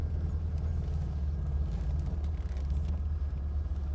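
A 1963 Chevy Corvair Monza with a Powerglide automatic drives in first gear, its engine a steady low rumble heard from inside the car, with wind and road noise around it.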